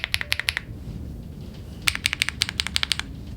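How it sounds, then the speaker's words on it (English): Keystrokes on a MechLands Blade75 mechanical keyboard fitted with Verdant switches, fast clicky bursts up close, a quick run of taps, a brief pause, then another rapid burst over a low background hum. "The Blade75 comes with MechLands Verdant switches, which are smooth and responsive."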